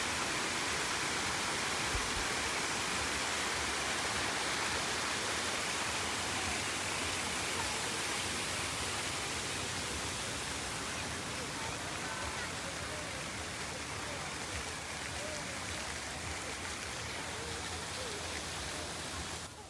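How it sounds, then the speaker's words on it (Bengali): Fountain water splashes steadily at an eco park at night, a dense, continuous rushing wash of spray and falling water that stays loud and unbroken throughout. "দেখো ঝর্ণার আওয়াজটা এত সুন্দর।"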